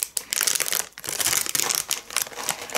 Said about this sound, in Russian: вот тут это было все в пакетике. Такой добротный, хороший пакетик. Из фольги.